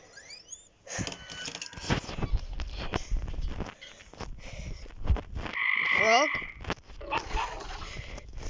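A cartoonish frog croak rises among game sound effects and clicks, with a voice talking over parts of it.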